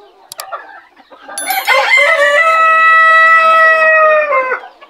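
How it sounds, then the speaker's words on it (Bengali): Frizzle and cochin bantam chickens let out in a yard cluck briefly, then a rooster lets out one long, loud, close crow that holds steady before breaking off. "আজকে এখানে কিছু ফ্রিজেল, বিভিন্ন কালারের ফ্রিজেল এবং কোচিন জাতের যে মুরগিগুলো রয়েছে"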